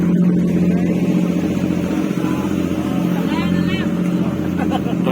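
Boat engine running in Siargao, a loud steady low rumble with a constant hum that continues throughout, while people chat nearby and a brief rising whine passes midway.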